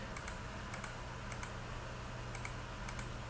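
Soft computer mouse clicks, a few light, evenly spaced ticks sitting faintly over steady background hiss, no voices.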